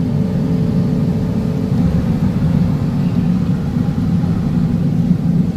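A truck on the road during the Sparks in the Ozarks road event gives a loud, steady low engine rumble that holds evenly throughout, with no distinct rise or fade.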